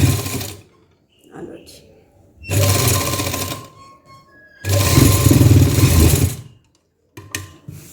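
A sewing machine stitching lace onto a shirt runs in several bursts of rapid whirring, the two longest lasting about two seconds each, with short clicks and quiet pauses between them.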